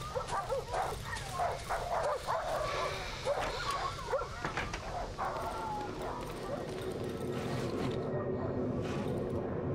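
Barking dogs in the survival horror game Darkwood yip and whine in scattered bursts beneath someone talking, set against a dark, droning game ambience that thins out near the end.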